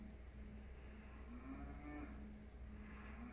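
Cattle moo in countryside near Diss, Norfolk, UK: a faint, distant low moo over steady outdoor background noise.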